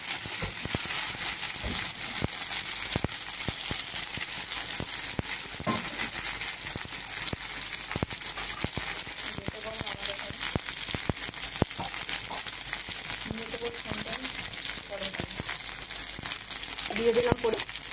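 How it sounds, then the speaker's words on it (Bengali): Black cumin, garlic paste and pepper frying in hot oil give a loud, steady, close sizzle throughout, with occasional crackles and stirring clicks. "তেল গরম হয়ে গেছে, এবার দিয়ে দিচ্ছি কালো জিরা রসুন সব বাটা দিয়ে,"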